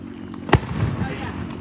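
A single sharp firework burst cracks loudly during an Independence Day display outdoors, followed by a brief crackling tail.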